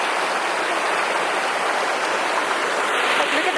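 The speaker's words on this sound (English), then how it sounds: "look at that river. It goes down to the waterfall." A river rushes toward a waterfall in a valley in Hualien, Taiwan, producing a loud, continuous broadband roar of flowing water that stays steady and close throughout.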